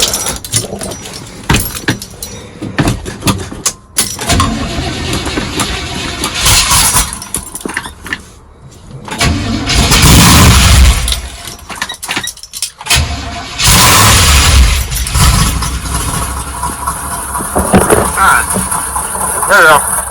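A 1977 Buick Custom with a Cherry Bomb exhaust is cranked over repeatedly in the cold, then catches and roars into a loud, rough idle with revving bursts, while people talk over it.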